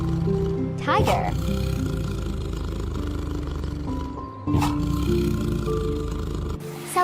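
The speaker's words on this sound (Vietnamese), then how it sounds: "Tiger." A tiger roars in a deep, sustained rumble, loud and close, swelling into a couple of stronger bursts.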